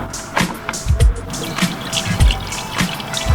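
Distilled water poured into a Porsche 944 radiator, irregular gurgling splashes and drips with a low sloshing undertone, close and fairly loud.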